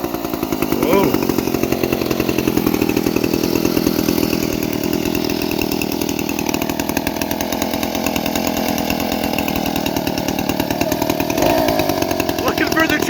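A Stihl 090 chainsaw, an old saw with a history tied to the Teton Dam, runs loud and close with a rough, pulsing engine chatter held at a fairly steady speed throughout, while people talk over it.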